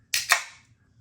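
A can of imperial coffee stout cracked open close by: two quick, sharp hissing bursts in a row, the second trailing off briefly, with nothing else around it.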